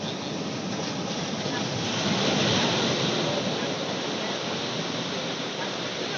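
Waves wash steadily onto the shore of a beach on a walk toward Velankanni, a broad continuous roar that swells slightly midway, mixed with some wind noise and no talk.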